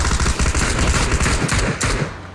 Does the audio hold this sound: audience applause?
no